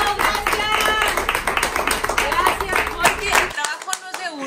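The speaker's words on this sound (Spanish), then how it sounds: "un aplauso de verdad a todo este equipo que nos acompaña" An audience on a lively terrace show claps for the team, a loud close burst of clapping that thins to a few scattered claps near the end, with some voices mixed in.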